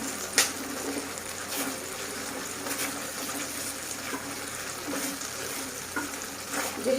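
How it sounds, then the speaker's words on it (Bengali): Whole garam masala spices sizzle in a hot wok, a soft continuous frying crackle at low volume with a few faint clinks of stirring and no speech. "আর এই কড়াতে আমি গোটা গরম মশলাগুলো দিয়ে দিলাম।"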